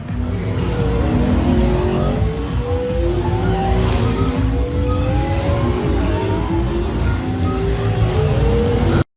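Futuristic hoverpods racing at high speed through a narrow desert canyon, a loud continuous roaring engine drone with rising and falling whines like passing race vehicles, dense and unbroken throughout.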